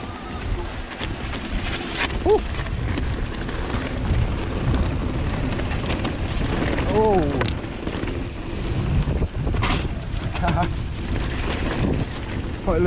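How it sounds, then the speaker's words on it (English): Loud blustery wind buffets the microphone in continuous gusts on a wet, windy hillside trail at Cwmcarn, with a person talking and sighing over the rushing noise. "It's so wet and windy."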